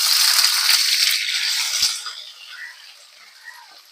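Lemons go into hot oil with popped mustard seeds for a lemon and date pickle, giving a loud, bright burst of sizzling that fades to a faint crackle after about two seconds.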